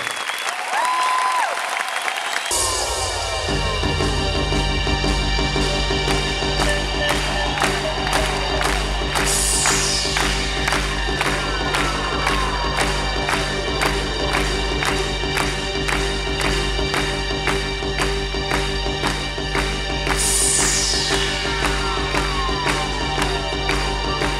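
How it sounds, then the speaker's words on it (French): Large crowd applauding and cheering at the ancient site of Carthage, Tunisia, loud and sustained throughout after a brief quiet start, with rhythmic clapping and occasional shouts rising over a steady low musical drone. "je vais applaudir Carthage"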